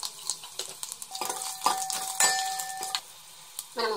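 Garlic cloves, mustard seeds, urad dal and cumin crackle in hot oil for a sambar tempering, with spluttering pops, scraping stirs and a few clinks of a metal utensil against the pan.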